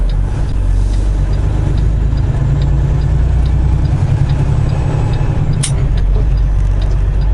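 Truck engine droning heavily on a toll road, a steady low rumble with a brief air-brake hiss near the end and no distinct gear change standing out.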